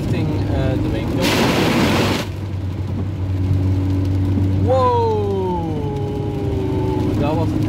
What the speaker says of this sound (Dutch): Heel veel water in één keer op mijn auto gekregen.